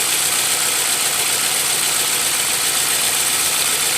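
A car engine misfiring from a dead ignition coil runs loud and close, its constant mechanical roar faintly uneven and rough, with no talking.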